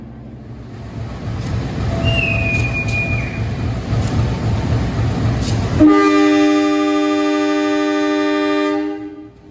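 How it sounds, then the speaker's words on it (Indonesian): Kahuripan passenger train departing Lempuyangan station at night, a busy platform murmur giving way to a long, loud sustained horn blast that holds steady for several seconds before cutting off. "merekam keberangkatan kereta api Kahuripan dari stasiun Lempuyangan"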